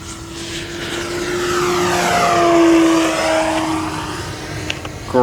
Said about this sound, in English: Great flying airplane.